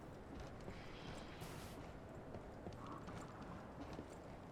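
A horse gallops in the video game Lies of P, its hoofbeats faint and steady under a dense wash of background noise.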